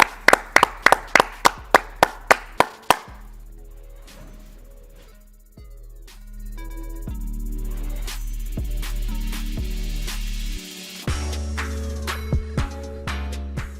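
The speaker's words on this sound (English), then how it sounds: "Clap it up." Rapid hand claps ring out close and loud for a few seconds, then give way to a steady synthesized music bed with sustained tones and occasional hits.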